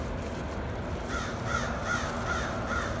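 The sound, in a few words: crows cawing outdoors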